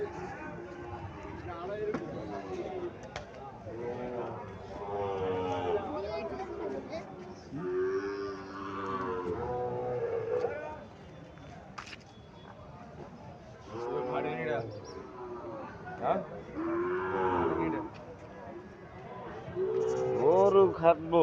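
Cattle, including Sahiwal bull calves at a cattle market, give repeated low, drawn-out moos, several overlapping and close, with a busy crowd murmuring and people talking in between.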